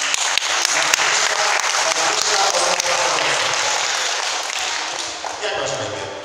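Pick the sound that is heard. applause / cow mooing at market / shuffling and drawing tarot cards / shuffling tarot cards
applause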